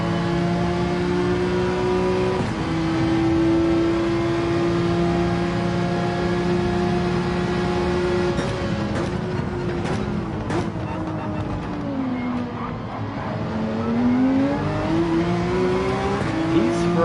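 Ferrari 458 GT3 race car engine in Gran Turismo 7 at Barcelona, a loud continuous near engine holding a high pitch, then dropping and climbing again through downshifts and acceleration, with brief tire noise.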